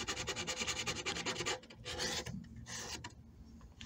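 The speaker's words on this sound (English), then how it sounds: "This is one of those sanding block things that from the dollar store." A cheap dollar-store sanding block rubs back and forth over the cut end of a wooden lap-desk leg, giving quick rhythmic close rasping strokes, then a few slower separate passes, with no talk.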